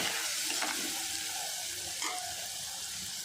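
Onion and green chilli fry in a pan for a fish curry with a soft, continuous sizzle, broken by quiet scraping and stirring sounds.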